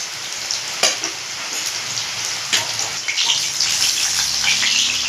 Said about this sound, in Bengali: আর বাকিগুলোকে আমি এইভাবেই ভেজে নেব